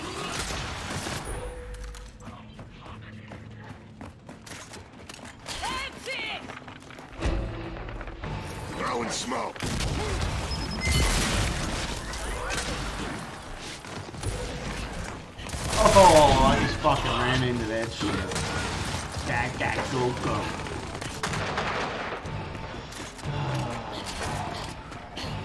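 Gunfire and explosions in Gears of War, bursts of shots and booms scattered across the stretch under a player's frequent talking.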